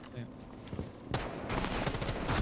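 Shotgun fire in a video game: several sharp blasts and a rapid burst of shots in quick succession, loud and close, mixed with other game noise and a voice talking.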